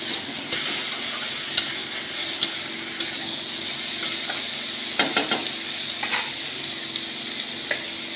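Vegetables for Bengali shukto being stirred and sautéed with ginger paste in a pan, a continuous sizzle with occasional sharp scrapes and clacks of the spatula against the pan.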